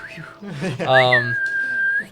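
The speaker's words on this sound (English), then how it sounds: "And he'll give you a whistle and confirmation." A person gives a loud signal whistle, one sharp rising note that holds steady for about a second, close up. A brief voice sound comes just before it.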